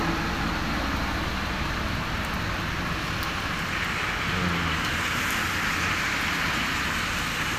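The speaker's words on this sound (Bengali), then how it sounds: "রাস্তায় প্রচুর বৃষ্টি হচ্ছে।" Heavy rain hisses steadily on a street in Germany, a broad continuous wash of noise with faint traffic rumble underneath.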